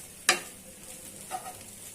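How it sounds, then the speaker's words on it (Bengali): Small river shrimp frying in hot oil give off a soft, steady sizzle, with one sharp crackling burst near the start and a fainter spatter later, close and without talk. "এগুলো আমার চিংড়ি ভাজা"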